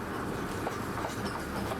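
Heritage railway train on the Welsh Highland line pulling away from a station, a steady close rumble of rolling stock and wheels on track with faint clicking, no talk.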